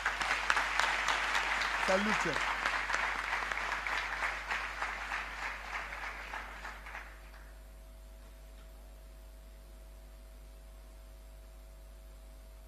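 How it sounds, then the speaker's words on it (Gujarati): An audience at a gathering claps together for the people seated and standing, a dense burst of applause that swells early and gradually fades out over several seconds before quiet hiss; a voice speaks briefly over it. "તો પહેલા તો એક જોરદાર તાળીઓ આ જે લોકો નીચે બેઠા છે ને ઊભા છે એમના માટે પાડો."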